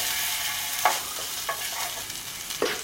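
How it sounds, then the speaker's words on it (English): Garlic sizzles in warm olive oil in a pan at a camp stove, a steady soft frying hiss punctuated by a few brief stirring scrapes, close and without talk. "we're going to get a little olive oil warming up in the pan"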